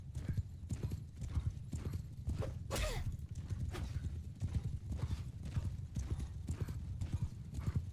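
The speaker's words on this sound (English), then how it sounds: "Luckily for once, my horse is faster than theirs." A horse gallops in Mount and Blade II: Bannerlord, fast, close, rhythmic hoofbeats pounding steadily for the whole stretch, with a brief snort or exhale midway, heard alone without talk.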